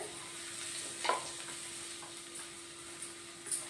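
Tempering spices for a rose petal and lemon pickle sizzle faintly in oil. The crackle is quiet and steady, with a couple of small pops, a thin background hum and no speech.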